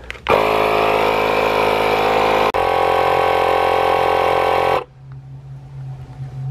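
A portable air compressor being tested after hookup runs loud and steady for about four and a half seconds, with a brief dropout midway, then cuts off into a low residual hum.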